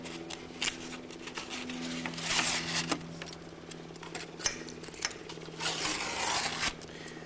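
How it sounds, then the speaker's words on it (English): Cover strips are peeled off double-sided tape while fitting fabric skins to Drifter ultralight ailerons: close, papery ripping and crackling in uneven bursts, with two louder tearing pulls standing out. "I'm going to remove these cover strips too off the double-sided tape in here."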